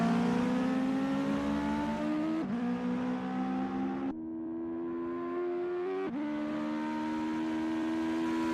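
Race car engine from a Legend car in a racing video game at Charlotte, droning steadily with rising and falling pitch through corners and a sharp lift-off around midway before the revs build again.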